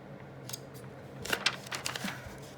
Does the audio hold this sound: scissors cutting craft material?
yes